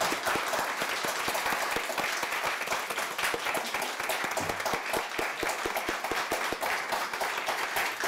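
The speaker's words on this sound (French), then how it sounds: "On l'applaudit, s'il vous plaît." A municipal council audience in Mercier-Hochelaga-Maisonneuve applauds a departing committee coordinator, steady dense hand clapping sustained throughout at moderate volume.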